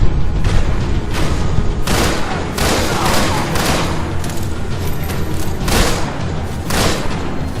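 Dense gunfire from Max Payne 3 rattles in repeated loud bursts and thuds for several seconds, a steady barrage with faint background voice.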